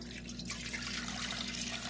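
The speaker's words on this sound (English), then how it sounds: "I'm going to go in with 1 cup of water." A cup of water poured into a bowl for bread dough, a steady close trickle and splash flowing without a break, no talking.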